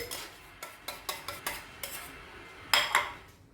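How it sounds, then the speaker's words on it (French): A spoon clinks and knocks against a bowl while butter is mixed with oil for date-filled makroute pastry. The sharp taps come in an irregular run of about ten, moderately close, with no talking. "On va mélanger le beurre avec l'huile."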